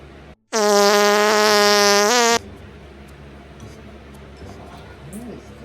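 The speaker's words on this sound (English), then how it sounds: "farting prank to see my husband's reaction." A prank fart sound plays as one loud, sustained buzzing blast lasting nearly two seconds, steady in pitch, with quiet room noise after.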